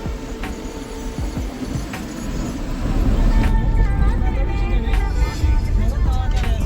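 A metro train rumbles steadily with low mechanical drone and occasional clicks and clanks, while people talk nearby.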